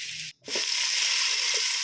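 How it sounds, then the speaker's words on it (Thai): Loud, steady sizzling of curry paste frying in hot oil, close up, with a brief gap early on and faint stirring scrapes. "ใส่ พริกแกงลงไปผัดให้หอมนะครับ"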